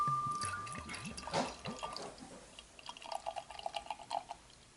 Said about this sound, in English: It's a good pour.